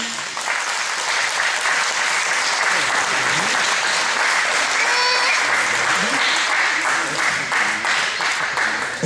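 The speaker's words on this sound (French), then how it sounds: "Allez, on les applaudit." Sustained applause from a crowd at a martial arts belt award ceremony, steady and dense clapping throughout, with faint voices mixed in.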